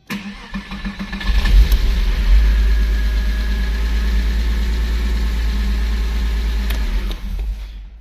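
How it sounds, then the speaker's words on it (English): A Porsche 986 Boxster engine cranks with a rising starter whir, then settles into a steady, loud mechanical drone that continues before cutting off at the end. "So now we're going to crank it."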